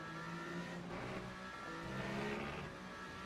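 Ferrari 499P hypercars racing at Bahrain in a sim racing game, a continuous droning engine note with faint rises and falls, steady and moderately distant without speech on top.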